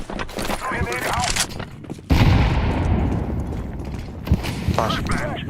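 A grenade bursts in Counter-Strike 2 with a sudden loud blast, followed by a lingering rumble and scattered gunfire-like cracks, while players talk briefly before it.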